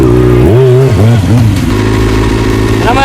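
A motorcycle engine revs hard in short blips, rising and falling in pitch before settling into a steady loud drone, close by, during wheelie practice.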